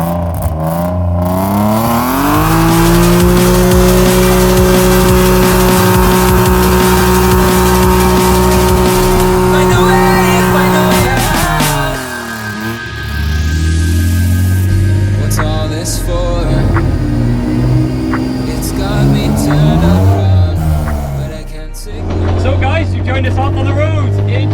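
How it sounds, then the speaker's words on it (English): A loud BMW E36 323i competition drift car engine revs hard and holds high on the road, drops briefly, then climbs again, with a rough, knocking, popping exhaust close by throughout. "This is full drift spec, and the exhaust is knocking a bit as well"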